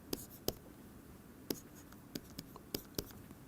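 Chalk or marker writing on a board during a physics lecture, a few sharp taps and scratchy strokes spaced irregularly over a quiet room.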